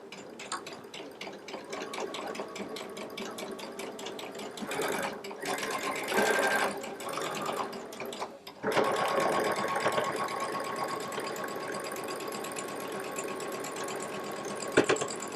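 A Baby Lock Solaris sewing machine pieces fabric with a 1/4" piecing foot, its fast even stitching running almost continuously with a couple of short pauses.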